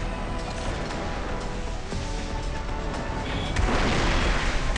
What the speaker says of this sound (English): SPA, ready to fire.